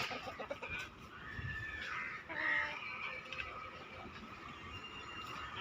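A flock of chickens in a backyard coop with two roosters and chicks, roosters crowing and hens clucking at a moderate distance over steady ambient noise.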